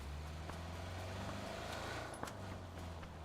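A car driving in the video game PUBG on the Erangel map, a low steady engine drone with slight revving, faint and continuous, no talk.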